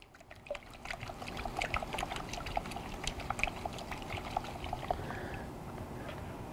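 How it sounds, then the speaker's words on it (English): Water sloshes and splashes in a gold pan during backwash panning, with a continuous rhythmic wash of liquid and small irregular splashes, moderately close and fairly soft. "we're going to be doing that panning action, the backwash"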